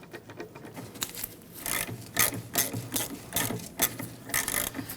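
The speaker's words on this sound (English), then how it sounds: "We're going to set it up into the top and remove that bolt." Ratchet working a brake caliper bolt on the rear brakes of a 1999-2004 Jeep Grand Cherokee, giving repeated short bursts of metallic clicking and rubbing at close range, with no talk.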